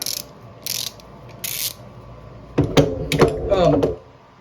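A Pittsburgh extendable ratchet clicks in a few short bursts, then a quick run of sharper mechanical clicks and rattles follows near the end, close and fairly quiet.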